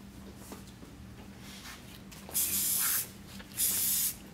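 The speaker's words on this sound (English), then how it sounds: "So we're going to spray it one more time" Hairspray hisses onto freshly curled hair in a salon, two loud sustained bursts of about half a second each, separated by a short pause, after a quiet stretch of room hum.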